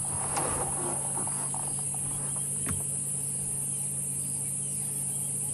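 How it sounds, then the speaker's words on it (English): Cicadas buzz in the bush at sunset, a steady high-pitched drone that stays constant and fairly faint, with a low hum underneath and a couple of brief distant knocks. "So you can hear that buzz of the cicadas"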